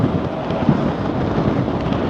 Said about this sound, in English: it's very windy today